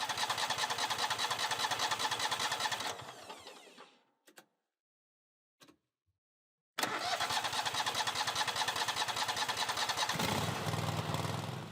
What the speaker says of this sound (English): It took 2 cups or 1 pint of fuel to restart the engine and drive it inside.